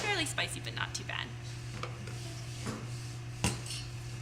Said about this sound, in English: you don't need a whisk, just kind of break that down into a nice sauce.